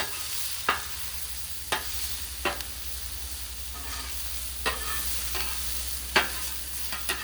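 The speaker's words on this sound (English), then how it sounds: "Mushrooms, as I expected, are cooking up quick." Mushrooms and vegetables fry on a griddle with a constant hiss, while sharp spatula taps and scrapes land every second or so, close by and without speech.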